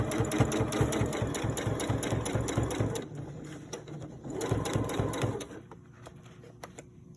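A sewing machine with a piping foot stitches piping onto a pillow in two close bursts of rapid rhythmic clatter, separated by a short pause. A faint mechanical hum remains afterward.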